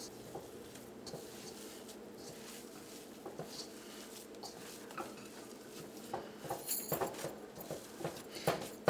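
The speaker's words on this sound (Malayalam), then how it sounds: "ഇതെല്ലാം കൂടിയിട്ട് നന്നായിട്ടൊന്ന് മിക്സ് ചെയ്യാം" Beef cutlet mixture being mixed with garam masala gives soft, irregular patting and squishing, quiet at first and growing into busier clustered taps and a few sharper knocks near the end, with no talking.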